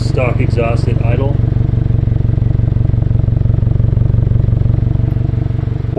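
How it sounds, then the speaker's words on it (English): Stock exhaust on a 2022 Subaru WRX at idle gives a loud, close, evenly pulsing low drone. A short bit of speech sits over the opening second. "Stock exhaust at idle."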